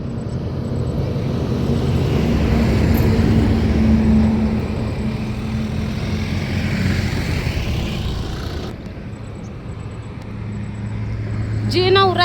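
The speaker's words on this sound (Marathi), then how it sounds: "अशा मोठ्या मोठ्या गाड्या येतात ना" Heavy vehicles roar past on a road, a broad rumbling drone that swells and fades as each one goes by, loud and fairly close.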